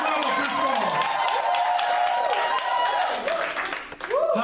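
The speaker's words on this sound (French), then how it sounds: "Acclame plus fort." A church congregation at a Sunday worship service applauds and cheers in a dense, continuous wash of clapping and crowd voices, with a voice rising and calling over the noise.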